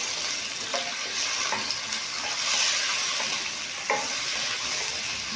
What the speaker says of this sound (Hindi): अब ये हमारी गोभी है ये मैं डाल दूंगा और इसे मैं 3 से 4 मिनट हल्की आंच पे इसे फ्राई करूंगा